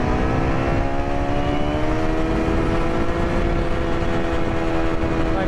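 An ONYX RCR 63cc two-stroke gas engine on a tribrid bicycle is held at full throttle. It gives a loud, continuous, buzzing drone at a steady pitch while riding, with heavy rushing wind noise underneath.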